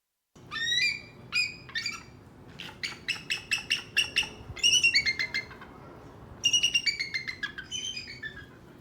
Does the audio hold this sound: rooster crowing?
no